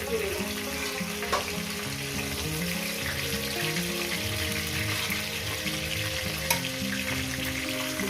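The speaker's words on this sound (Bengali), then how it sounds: "মাছের মাথাগুলো ভাজা হয়ে গেছে" Catla fish heads frying in oil in a home kitchen, a steady, moderately loud sizzle that runs throughout, with a couple of brief clinks of utensils and no voices.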